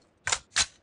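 Two quick mechanical clicks of a weapon reload in a shooter video game, sharp and close, a brief double clack with nothing else around it.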